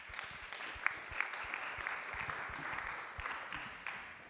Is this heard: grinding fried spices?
no